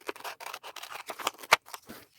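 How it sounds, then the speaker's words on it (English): Scissors snip through denim fabric in quick, close, crisp repeated cuts, one stroke after another with no pause, and no talking. "And then I'm going to cut that out."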